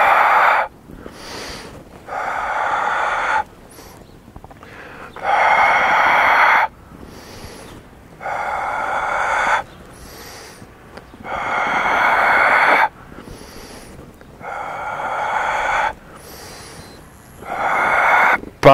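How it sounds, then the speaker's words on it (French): Forceful exhales from the back of the throat during a home abdominal workout, about eight long, raspy breaths in a steady rhythm separated by short pauses, close and loud. "On expire avec le fond de la gorge."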